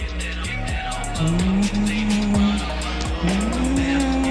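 A car revs and screeches in the DEEEER Simulator video game, with engine tones climbing and dropping and tire squeals, loud and continuous with rhythmic clicking game effects.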